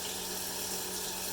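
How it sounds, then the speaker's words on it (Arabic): Chicken pieces for Kentucky-style fried chicken frying in very hot oil, giving a steady, dense hiss throughout with no voices. "الزيت مالتنا كلش حار، راح نبدي ننزل قطعه قطعه داخل الزيت"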